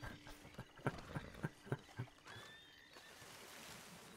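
A horse whinnies over a quick run of hoof clops in the video game Red Dead Redemption 2 Online, fairly faint and synthetic-sounding, then fades into a soft low background rumble.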